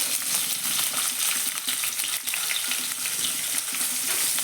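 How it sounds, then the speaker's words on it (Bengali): Cardamom, cloves, cinnamon and sliced onion fry in hot oil with a dense, continuous crackling sizzle up close, broken by faint stirring clicks. "তেলটা গরম হয়ে গেলে তার মধ্যে দিয়ে দেবো এলাচ লবঙ্গ আর ডালচিনি দিয়ে একটু নেড়ে দেবো আর দিয়ে দেবো কোচানো পেঁয়াজ"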